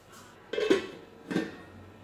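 A lid is set onto a pot of simmering Malabar fish curry soured with tamarind, giving two short metallic clatters about a second apart, close and fairly quiet.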